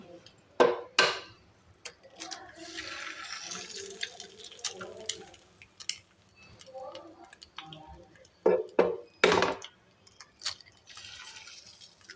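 Four eggs cracked one after another and poured into a pan with coconut oil, giving a few sharp taps and wet drips and splashes, close and moderately loud, with quiet sizzling between them.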